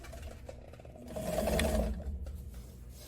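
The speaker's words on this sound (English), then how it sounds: "And I'm going to edge stitch." A sewing machine edge stitches a wide-leg pant, its needle running in a steady mechanical whir that swells louder midway before easing back, close and alone without talk.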